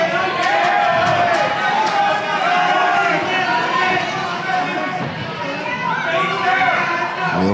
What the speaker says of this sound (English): The educated crowd here at the Crowne Plaza calling for knees